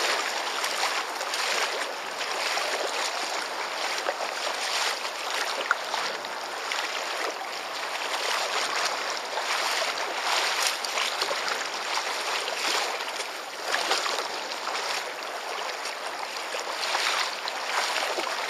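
Steady broadband rush of water around a kayak, with surges of waves slapping and splashing against the hull throughout.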